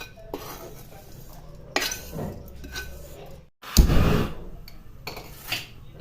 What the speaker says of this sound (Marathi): ती आता मी एका प्लेटमध्ये काढते आणि कढई लगेच तापायला ठेवायची आहे